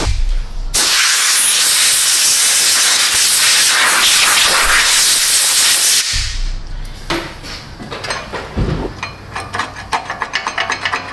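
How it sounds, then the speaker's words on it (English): Brake cleaner sprays in a loud, steady hissing blast for about five seconds onto seized parking brake shoes and actuators of a Chevy Traverse, then stops, followed by softer clanks and short bursts of hiss in a workshop. "Got some brake clean. Let's get the initial blasting off and get a blow nozzle."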